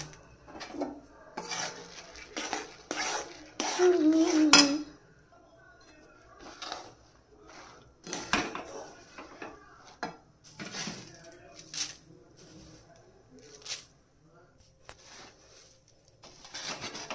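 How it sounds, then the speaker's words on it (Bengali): Puffed rice being stirred into thick jaggery in a pot, with scraping, rubbing and clinking strokes of a spoon against the pot in bursts of uneven rhythm, some passages louder than others. "এবার আমি অল্প অল্প করে এর মধ্যে খই ছড়াতে থাকবো আর নাড়তে থাকবো"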